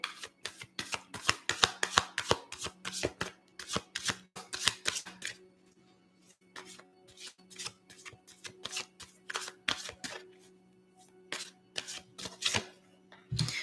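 Tarot cards being shuffled in a steady run of crisp, rapid riffling bursts, close and fairly quiet, with brief pauses between handfuls and a faint hum underneath.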